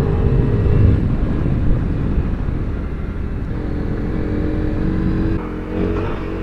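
Loud, continuous engine and wind roar from a dual sport motorcycle riding along a gravel road on a wintry evening, with the engine steady throughout and no speech.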